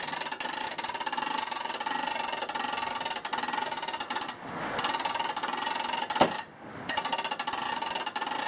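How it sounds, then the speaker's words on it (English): A hand crank raises a 2008 Jayco tent trailer, producing a continuous rapid train of ratcheting metallic clicks, close and fairly loud, briefly pausing twice before resuming. "Begin to slowly crank up the tent trailer"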